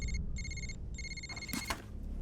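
A phone rings in short repeated electronic bursts, two rings, followed by a few soft clicks and rustles.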